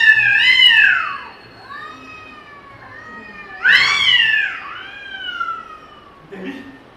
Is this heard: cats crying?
yes